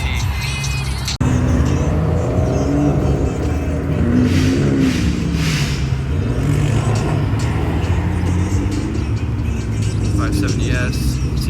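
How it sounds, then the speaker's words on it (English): Several McLaren supercars, including a 570S, an MP4-12C and a newer GT, pull into a shopping-centre car meet, their loud engines droning and rumbling close by, with people talking. "The McLaren crew pulling in."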